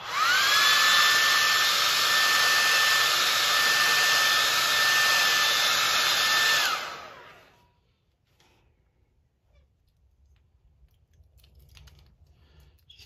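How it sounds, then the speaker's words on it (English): Heat gun drying paint on a custom swim bait, a loud steady blowing whine for several seconds that cuts off, leaving faint handling noise. "heat dry that."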